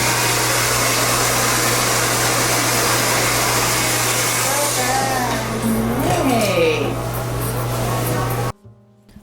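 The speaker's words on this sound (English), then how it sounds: "Let me just blow dry your hair first." A salon hair dryer blow-drying a client's hair whirs in a loud, steady drone close by, with voices talking over it, then cuts off abruptly near the end.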